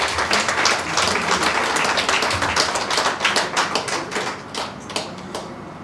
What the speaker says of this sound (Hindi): बड़ी तालियों से बधाई सबको।